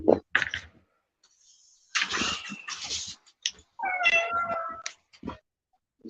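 A cat meows nearby in several short separate calls, then gives a longer drawn-out, wavering meow toward the end, with quiet gaps between the calls.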